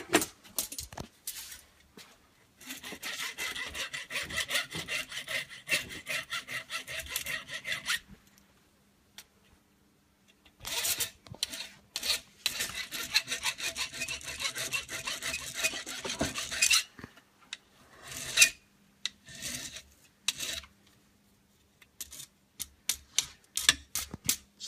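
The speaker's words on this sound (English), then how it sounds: "I like to use a file." A metal file deburrs the freshly cut end of a steel brake line in close, rhythmic bursts of rasping strokes, separated by brief pauses and ending in a few short scrapes.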